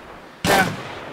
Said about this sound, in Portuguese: Gastando bala pra caralho aqui, não consigo acertar uma.